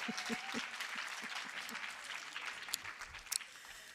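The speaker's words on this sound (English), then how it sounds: "Another round of applause, please." An audience at an academic research forum on gender-based violence in higher education claps after a talk, a sustained patter of many hands at moderate distance, thinning toward the end, with a faint voice underneath.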